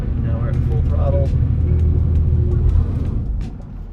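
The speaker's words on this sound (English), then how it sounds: "Now we're at full throttle." Engine of a stuck GMC off-road truck held at full throttle, a loud steady roar with rumble that eases off near the end, with a voice speaking over it.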